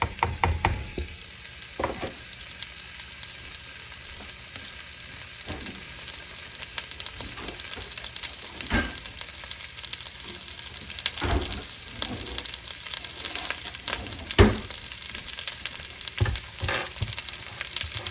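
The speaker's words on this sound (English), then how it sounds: "So it's heating up, and I'm going to throw in my vegetables." Chopped vegetables sizzle in a hot pan for a beef shoulder roast dinner: a soft, steady frying hiss with scattered pops and clicks throughout, fairly quiet and close.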